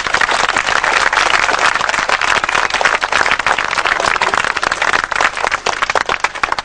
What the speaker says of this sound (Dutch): Een hartelijk applaus voor Guus de Jong.